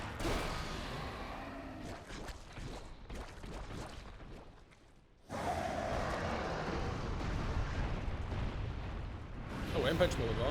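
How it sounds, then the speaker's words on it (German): A rock blows apart in The Legend of Zelda: Tears of the Kingdom, a rumbling burst with crackling debris, a brief drop to near quiet, then renewed heavy roaring at a moderate level, with no talk. "Der Felsen ist explodiert."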